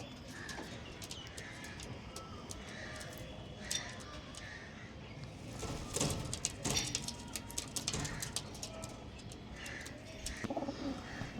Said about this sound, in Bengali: টোটাল আছে এখানে 11টা পায়রা